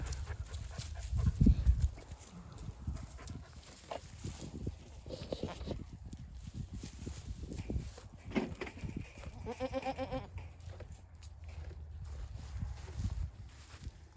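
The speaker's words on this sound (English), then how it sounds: "Some pretty good looking goats." Kiko goats in a pasture, with scattered hoof and body noises, shuffling, and a bleat partway through, heard at moderate distance with no talking.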